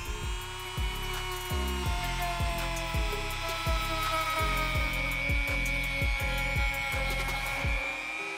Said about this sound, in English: using the Dremel with a metal drill bit, we gotta remove all the old glue from the inside of the sole